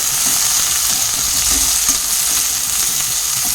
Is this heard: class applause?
no